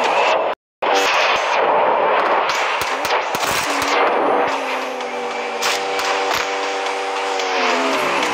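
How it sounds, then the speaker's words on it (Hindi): Gunfire in the Free Fire video game rattles in loud, rapid bursts, then changes to steadier repeated shots over a droning engine-like hum; there is no talk. "अरे एनिमी है क्या जो गोली चला रहा है?"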